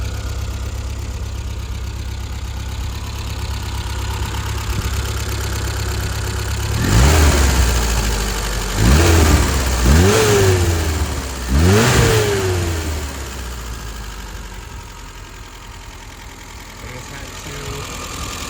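A 1974 Triumph Spitfire 1500 engine idles steadily nearby, then gets three quick throttle blips that rise and fall before it settles back to a smooth idle.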